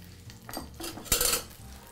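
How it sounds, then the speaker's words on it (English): A spoon stirs whole corn kernels through a corn puree in a pan, with soft scraping and a brief louder clatter of utensil against the pot midway; close and alone, no voices. "I just want to cook this corn in the puree, the whole kernels of corn in the puree for just a few moments"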